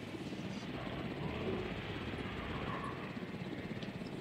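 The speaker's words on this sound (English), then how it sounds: "I need the transport one. Transport helicopter." Transport helicopter in the Jurassic World Evolution game, a steady dense rotor and engine drone holding at even loudness throughout, with no talk over it.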